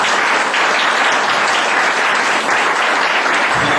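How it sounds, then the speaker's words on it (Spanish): Loud, dense applause from a church congregation fills the whole stretch, a thick, sustained roar of many hands clapping together. "Ofrenda de aplausos al Señor."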